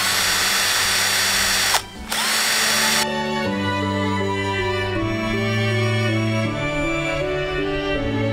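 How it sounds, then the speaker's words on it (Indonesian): An electric drill bores holes into a tree trunk, a loud steady whine with a brief pause, then a lower, shifting pitch as the bit bites into the wood, close up with no talk. "aku sudah membuat beberapa lubang dengan bor listrik yang aku pakai"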